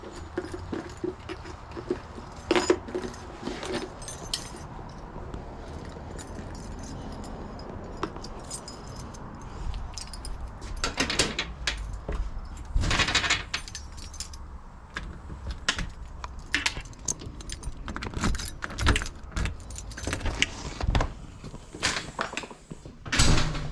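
Keys jangle and clatter in repeated short bursts close by, mixed with other handling knocks and taps, with no talk.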